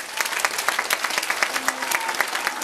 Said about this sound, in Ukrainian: нехай не вщухають оплески